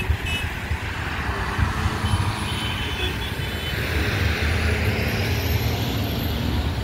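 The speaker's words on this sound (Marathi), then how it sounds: "पूर्णपणे वाहतुकीचा खोळंबा झालेला आहे। वाहतूक पूर्णपणे चॉकअप आहे।" A traffic jam of trucks and cars on the road from Pachwad Phata to Kolhapur Naka in Karad gives a steady, dense rumble of idling and crawling engines, with faint distant honks.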